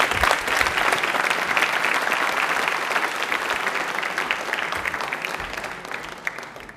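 Loud, sustained applause from a studio audience at a Hindi quiz show, dense steady clapping filling the whole stretch with no voices over it.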